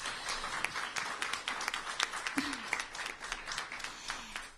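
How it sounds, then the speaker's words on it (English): Applause from the audience at a mayor's bi-weekly press briefing, a steady crowd of hands clapping with sharp individual claps over a dense wash, held at even loudness, with a brief voice underneath. "Let's give Dennis a round of applause."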